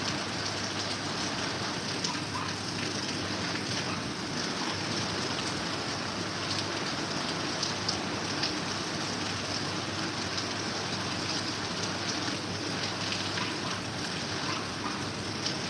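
Heavy, steady rain pours down near Lehragaga in Sangrur district, Punjab, a dense continuous hiss of drops drumming on surfaces that stays loud and even throughout, with no voices.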